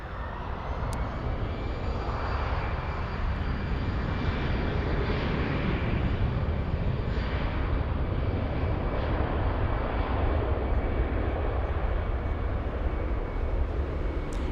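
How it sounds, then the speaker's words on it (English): At Frankfurt airport, an Air India Boeing 787 taxis with a steady, continuous jet engine roar that holds evenly at moderate distance throughout, with no one talking. "Air India 787 taxiing to the runway."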